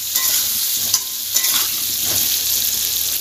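Potato pieces with a little salt and turmeric fry in hot oil in a village kitchen and are stirred. The sizzle is close and continuous, with a few soft scrapes of the spoon.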